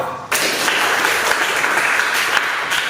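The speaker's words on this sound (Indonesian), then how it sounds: "Tepuk tangan untuk kita semua." A class of schoolchildren bursts into applause after finishing a project, the clapping starting abruptly and continuing loud and dense throughout.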